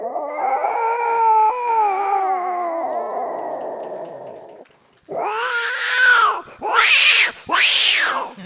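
A human voice imitates an angry house cat facing an intruding cat: a long, wavering yowl, a short pause, then sharp hissing spits and harsh screeches, loud and close.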